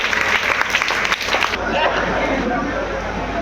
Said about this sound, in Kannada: ಜೋರಾದ ಚಪ್ಪಾಳೆ ಮೂಲಕ ನಾವು ಅವನ್ನ ಬರಮಾಡಿಕೊಳ್ಳೋಣ